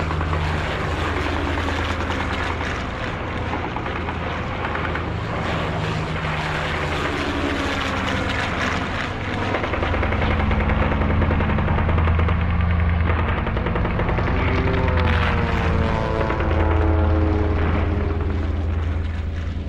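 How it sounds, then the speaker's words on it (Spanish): Propeller warplanes drone loudly through aerial combat over the Aragon front near Teruel in the Spanish Civil War, engines rising and falling in pitch while bursts of machine-gun fire rattle throughout, dense and continuous. "donde se suceden durísimos combates aéreos"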